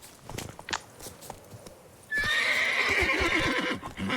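Geralt's horse Roach from The Witcher 3 gives a loud, close neigh over steady clip-clop hoofbeats, after a softer stretch of scattered hoof and ambient sounds.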